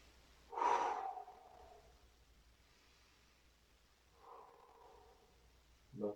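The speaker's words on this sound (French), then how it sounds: "On va bien respirer." One person breathes during a seated leg exercise, a single loud close exhale near the start, a softer breath a few seconds later, and a brief sharp intake at the end, with quiet pauses between.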